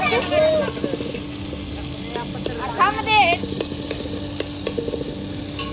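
Tomatoes and capsicum frying in a home kitchen pan, a continuous soft sizzle with occasional stirring scrapes, while someone talks over it.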